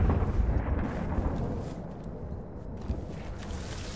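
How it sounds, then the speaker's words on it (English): Low rolling thunder rumbles steadily through a muddy World War I battlefield in Battlefield 1, a continuous deep wash with a faint distant crack near the end. "Oh, the thunder sounds just so cool"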